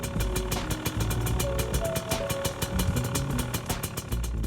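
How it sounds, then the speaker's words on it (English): A 2-stroke dirt bike engine idles during its first break-in heat cycle, a steady low putter with rapid regular ticking pulses, moderately quiet and close with no talk. "I start the engine and leave it at an idle."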